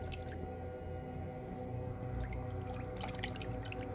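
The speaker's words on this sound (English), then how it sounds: "I hear water here." Water drips in an indoor area of the video game Prince of Persia: The Sands of Time. Scattered small droplet plinks sound over a constant low ambient hum, with no voices.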